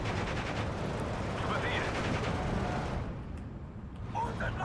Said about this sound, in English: More artillery fire over here on the MG-34 position.